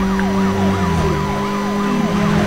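Police siren in the Need for Speed Most Wanted video game wails in a steady, loud sweeping pattern over a constant low engine drone, with no talk.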